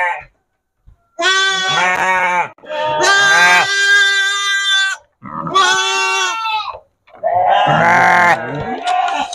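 Young goats or sheep about 20 days old bleat on a farm raised on a two-ingredient concentrate feed, loud and close, in four long wavering calls with short pauses between them.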